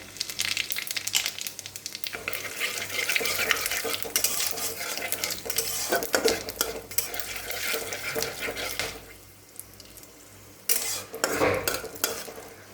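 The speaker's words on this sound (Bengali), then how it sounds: "এখন সেই তেলের মধ্যে গোটা গরম মশলা আর গোটা জিরে," Whole garam masala and cumin seeds spluttering in hot oil left from frying prawns for a malai curry, a close crackling sizzle under busy clattering of a metal spoon against the pan, pausing briefly before resuming.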